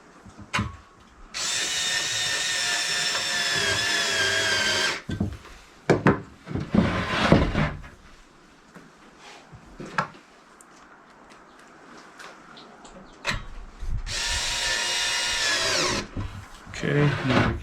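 A power drill drives screws into the slots of a TRUSTECH HCH 1500 patio heater pole, with several separate whirring bursts of a few seconds each, separated by clicks, clunks and handling noise.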